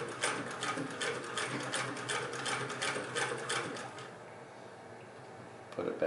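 A 1926 Singer 99 hand crank sewing machine stitches in a fast, even mechanical clatter for about four seconds, then slows and stops, leaving a quiet pause and a brief final clunk.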